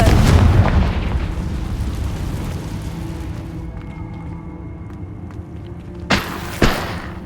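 A Confringo blasting spell detonates in Hogwarts Legacy with a heavy booming blast that fades into a low rumble. Two short, sharp thuds follow close together near the end over quiet game ambience.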